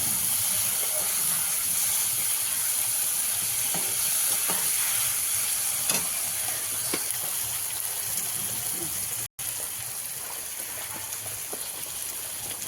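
Fried potatoes sizzling in spiced oil in a pan, a dense continuous hiss and crackle with occasional stirring scrapes, close and steady with a brief dropout partway through.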